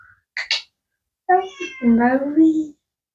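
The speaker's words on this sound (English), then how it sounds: "Sorry, my cat's gonna meow." A cat meows twice briefly, then lets out a longer, drawn-out meow with rising and falling pitch, close by and loud.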